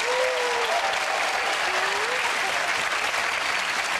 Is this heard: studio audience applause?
yes